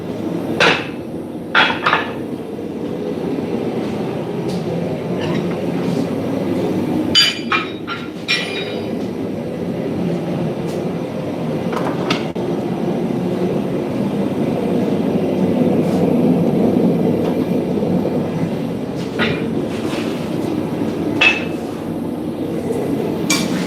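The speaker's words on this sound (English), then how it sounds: "It's a heavy hammer swinging." Repeated metallic strikes ring out at irregular intervals, sharp clanks over a steady low rumble, a heavy blacksmithing hammer hitting metal on an anvil nearby.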